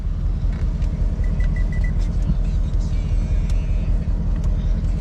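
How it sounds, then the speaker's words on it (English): Car engine roaring steadily with dense low rumble as the driver guns the gas and counter-steers through a drift, loud and continuous throughout. "She out here gunning the gas and counter steering."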